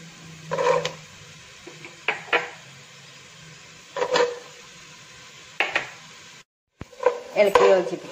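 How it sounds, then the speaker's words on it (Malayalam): A utensil stirs mixed vegetables and garlic paste in a pan for vegetable pulao, making several separate scraping, clinking strokes against the metal with quiet gaps between them. "ഇളക്കി യോജിപ്പിക്കാം."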